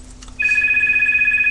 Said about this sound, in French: le téléphone qui sonnait